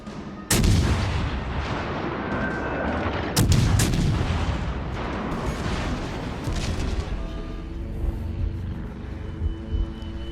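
HMS Warspite, a tier 5 battleship in World of Warships Legends, fires its big guns in two loud, booming salvos a few seconds apart, each trailing into a rumbling decay under softer battle noise.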